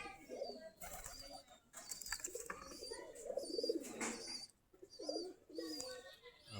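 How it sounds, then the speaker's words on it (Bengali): Desi giribaj pigeons coo near their coop, with low rolling calls rising and falling in several bursts, mixed with nearby voices and rustling background noise. "আমাদের দেশি গিরিবাজ কবুতর"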